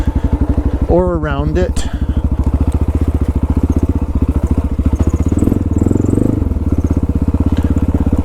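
A KTM 300 dirt bike ridden through woods: a loud, close two-stroke engine with a rapid, steady pulsing drone and a short rev, while a rider talks over it.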